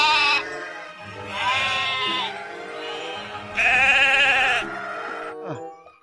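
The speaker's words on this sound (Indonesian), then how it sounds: "ini domba" Several loud, wavering sheep bleats close by, in three main bursts with quieter bleating between them, heard during a cleaning of farm animals.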